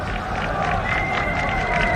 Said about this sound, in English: Joyful Indian section of the crowd.